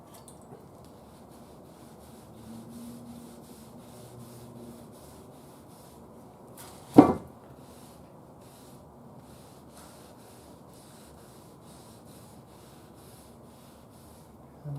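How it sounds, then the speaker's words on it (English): Liquefied finish rubbed along the wood grain of a Zenith Boomerang radio cabinet, a quiet soft rubbing texture with one sharp scuff or knock midway, otherwise low and steady. "I'm just going to take it and rub it in the direction of the grain"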